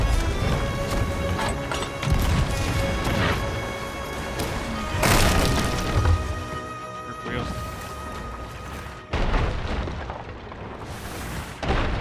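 Cannon fire booms from ships in a Sea of Thieves-style naval battle with a Reaper brig, several heavy blasts and crashes spaced out over a music bed while a player talks.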